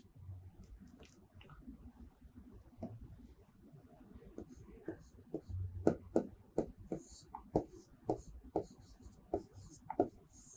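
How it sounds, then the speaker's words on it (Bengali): Handwriting on paper during an English lesson, scratchy pen or pencil strokes in a steady run of short taps and scrapes, close and fairly quiet, growing busier toward the end, with soft low background rumble. "আমি এখানেই লিখছি এই জায়গাটায়।"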